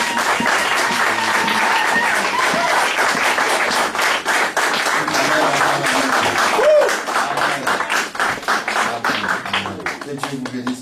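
A church congregation rising to applaud and honour its pastor, a loud, sustained wave of clapping close by that thins toward the end, mixed with cheering and voices.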